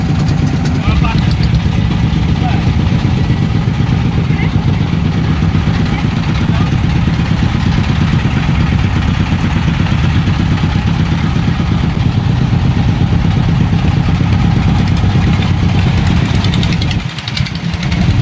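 A motorboat engine runs steadily and loud throughout a 10–15 minute river crossing to Bholaganj toward Sada Pathor, its droning clatter unbroken until a brief dip near the end.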